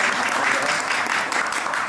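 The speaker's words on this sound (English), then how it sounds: "Clap it up for yourselves" Audience at an entrepreneur weekend event in Atlanta applauds steadily and fairly loudly for the full two seconds, a dense continuous wash of clapping with no voices rising above it.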